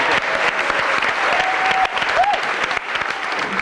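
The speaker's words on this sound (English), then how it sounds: "can you applaud yourselves because you've done exceptionally well" Members of a pop band audition group applaud themselves, steady dense clapping filling the room for several seconds, with a few faint tonal voice traces mixed in.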